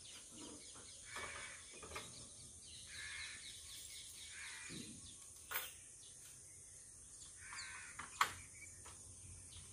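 An Asian koel calls outdoors near a village shop, its faint, distant notes repeating at intervals over a quiet background hum.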